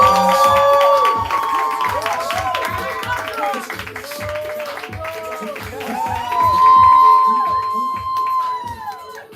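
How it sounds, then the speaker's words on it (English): Poetry slam audience clapping and cheering loudly, dense applause with whoops and shouts swelling and fading, a host's voice calling over the crowd. "We're clapping, we're building energy. Make all the noise for Lito."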